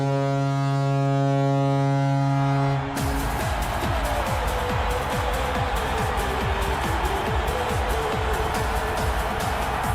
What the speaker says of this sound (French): Bon, ils ont une bonne sirène de but. On l'entend 2 fois.